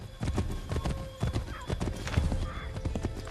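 Horse hooves clip-clop at a gallop in Assassin's Creed 3, a steady rapid rhythm close by with occasional whinnies and faint game voices and ambience underneath.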